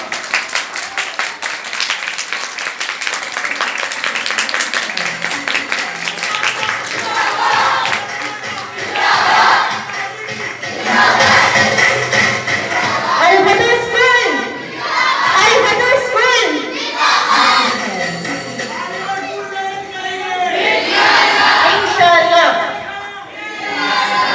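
An audience at a school's annual prize distribution ceremony claps and cheers loudly and steadily, with shouts and chatter rising in waves over the sustained applause.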